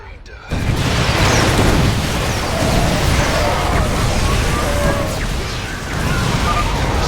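Dense battle noise from a StarCraft II Zerg cinematic: continuous gunfire and rumbling explosions fill the scene, loud and sustained, with voices shouting over the din.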